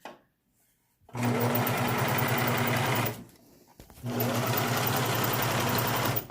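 A sewing machine backstitches a fabric face mask in two loud, fast mechanical runs of about two seconds each, separated by a short quiet pause, and it stops briefly at the start.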